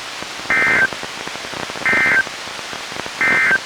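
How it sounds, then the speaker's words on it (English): NOAA Weather Radio weekly test alert tones: three loud, identical electronic bursts, each about a third of a second long and evenly spaced, over a steady hiss of noise. "The following tones will conclude this test."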